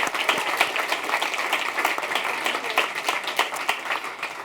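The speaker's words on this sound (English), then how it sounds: "if we could all just give them a round of applause" Applause from attendees at a co-op member meeting, a moderate crowd clapping steadily with distinct individual claps audible throughout.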